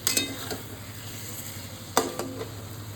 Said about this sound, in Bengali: এবার আমি ভাজা পটলগুলো দিয়ে 2 থেকে 3 মিনিট আমি আবার কষিয়ে নেব